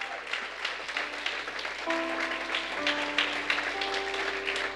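A church congregation applauding during worship, a dense, steady wash of clapping with sustained organ or keyboard chords underneath.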